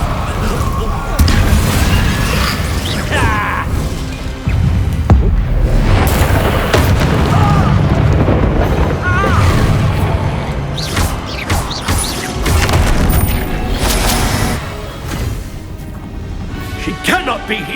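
A Bombarda spell explodes during a duel in the Hogwarts Legacy video game, heavy booms and crashing bursts piling up amid dense combat effects, with voices shouting throughout.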